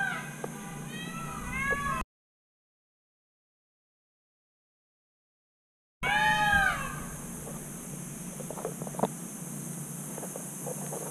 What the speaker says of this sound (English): The response to this vehicle honking is a cacophony of peacocks with their calls